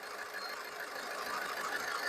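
A Skoda Rapid diesel car engine runs steadily at idle, a close, continuous mid-range drone with a faint knocking texture and no voices.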